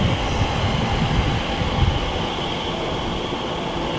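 A steady loud rumble of a moving train on the London Paddington service, broad and continuous with a faint hum above it and no voices.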